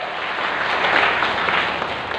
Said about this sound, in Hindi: सही रहा तो ठीक है, तो ताली बजा दो।